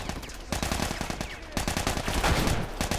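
Heavy, continuous gunfire in The Last of Us Remastered, rapid repeated shots in dense bursts close up, with brief pauses between volleys and little talk over it.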